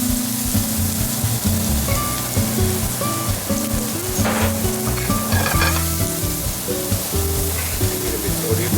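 Garlic and ginger sizzle steadily in a hot pan with oil, a loud, continuous crackle with stirring clatter over it, close by.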